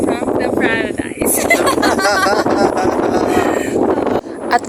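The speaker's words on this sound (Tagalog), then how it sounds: "sobrang mahangin ang araw na ito" Strong wind at Pacman Beach in Sarangani buffets the microphone in a steady, loud rush, with someone speaking over it throughout.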